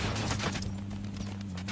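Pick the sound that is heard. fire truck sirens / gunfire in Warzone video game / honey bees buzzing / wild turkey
gunfire in Warzone video game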